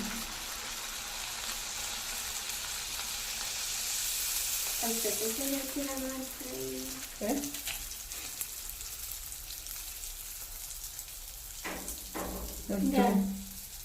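Continuous crackling sizzle of neyyappam batter frying in hot oil, with a person talking over it at times and a louder clatter near the end.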